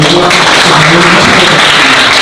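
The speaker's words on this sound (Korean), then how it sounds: "마지막으로 최진기 선생님을 다시 한번 감사의 박수를 드리고" Loud, dense applause from a lecture audience thanking the speaker at a 5·18 Democratization Movement memorial lecture, continuous and full throughout with a voice faintly over it.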